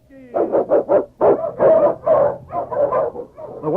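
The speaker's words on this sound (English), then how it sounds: "The Wonder Dog King, swiftest and strongest of Eskimo lead dogs, blazes the trail through storm and snow for Sergeant Preston" An Eskimo lead sled dog barks in a quick series of loud, close yelps and bow-wows, about ten in under four seconds, with no talk.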